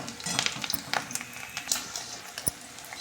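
Onions and green chillies frying in plenty of oil, a soft steady sizzle with small clinks and scattered pops heard close up, no talking.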